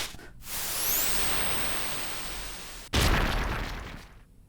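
Wigglytuff smashing through a wall in Pokémon Mystery Dungeon: Explorers of Sky lands as a loud, noisy crash that rumbles on for a couple of seconds, then a second heavy burst hits and fades out.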